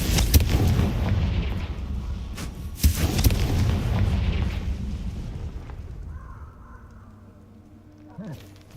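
Spell explosions crackle and boom through combat in the video game Hogwarts Legacy, dense and continuous, under a voice calling out spell names, then fading to a low hum.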